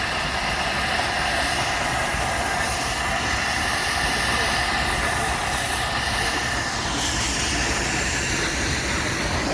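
An old steam engine hisses steadily at a harvest show, a continuous loud broadband rush of steam with rumbling machinery underneath, running unbroken throughout.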